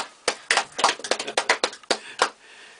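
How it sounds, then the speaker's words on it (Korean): A short burst of scattered hand clapping from a small church congregation, about a dozen quick, uneven claps, fairly close and without voices. "위에서 한번 박수 한번 쳐줘"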